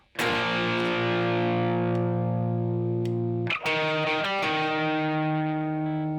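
Distorted electric guitar plays the opening line of a solo, a long sustained note that slowly decays, then a quick flurry of picked notes settling into another held note, loud and close.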